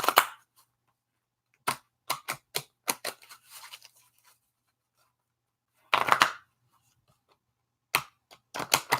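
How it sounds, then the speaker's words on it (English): A deck of cards shuffled during a reading: quick clustered riffles and sharp snaps in separate bursts divided by silent pauses, close and crisp with no talking. "I'm going to go ahead and shuffle so we can clear the deck"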